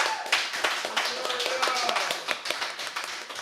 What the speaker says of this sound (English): So give Victoria a big, big round of applause.